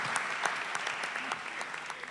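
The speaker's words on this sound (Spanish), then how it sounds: "un aplauso nuevamente y le cedemos la palabra" A roomful of people applauds at a talk or panel session, even clapping at moderate volume with no voices over it.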